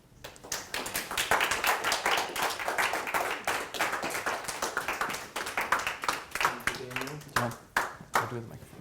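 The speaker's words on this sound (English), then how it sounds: "One more round of applause for all our presenters." A colloquium audience at an undergraduate research event claps for student presenters, a loose crackle of hands from a modest crowd with a few louder individual claps and brief voices near the end.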